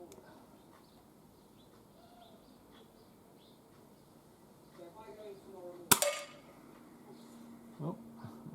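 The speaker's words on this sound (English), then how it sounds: "First shot." A single sharp crack from a Weihrauch HW45 .22 air pistol fired at a 10 metre competition target, loud and abrupt against a quiet room with faint ambient sounds before and after.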